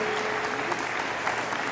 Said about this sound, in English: Would you all join in giving them a warm round of applause?